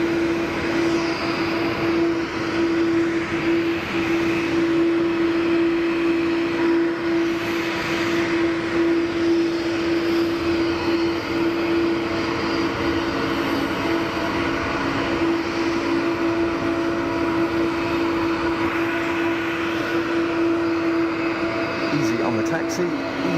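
A Swiss Airbus A220 airliner taxiing at Geneva Airport, a steady loud engine whine with a constant tonal hum throughout, a voice talking over it.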